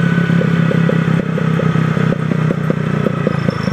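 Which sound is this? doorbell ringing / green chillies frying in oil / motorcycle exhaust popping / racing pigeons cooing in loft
motorcycle exhaust popping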